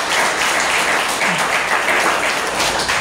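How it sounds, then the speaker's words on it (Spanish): During a church sermon, a congregation gives a loud, steady applause, many hands clapping in a dense, even roar that fills the room for its full length, with voices faintly mixed in. "Dale un aplauso al Espíritu Santo."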